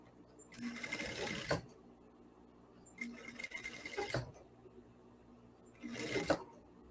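A sewing machine stitches a fabric seam with a one-centimetre seam allowance in three separate bursts, each a second or so of rapid, steady whirring and clatter, with short quiet pauses between.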